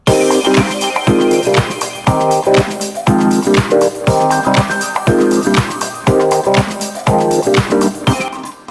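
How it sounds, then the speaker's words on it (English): Electronic drum pattern from an Elektron Digitakt 8-voice drum machine, layering a keys sample and a crash cymbal over steady kicks and hits in a looping rhythm, loud and continuous with no voices. "And with that sample and the crash, it's going to sound like this."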